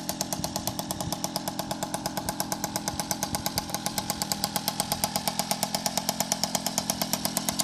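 An MBK 51 moped with a Magnum Racing 93 engine runs steadily close by, a rapid, buzzy two-stroke putter with an even pulsing rhythm and no voices over it.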